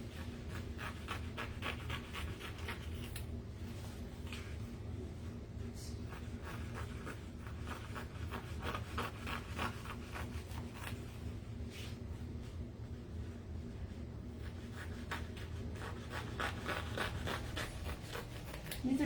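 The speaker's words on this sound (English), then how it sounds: "I'm just going to trim up this edge" Small sewing scissors trim an edge with a quick series of crisp snips, repeated in a steady rhythm over faint background rustling, close to the listener.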